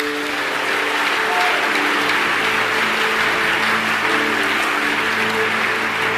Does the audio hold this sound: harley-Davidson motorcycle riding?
no